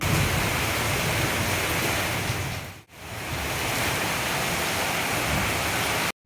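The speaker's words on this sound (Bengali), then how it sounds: "দেখেন বাইরে কি পরিমাণে বৃষ্টি।" Heavy rain pours down outside in a dense, steady roar that stays loud throughout, apart from one brief dip partway through.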